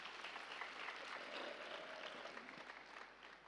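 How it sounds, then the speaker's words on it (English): An audience at a music meditation festival claps for a project, a continuous spread of many hands applauding, faint and distant, for a few seconds with no talking over it. "let's give a big clap to this project once again"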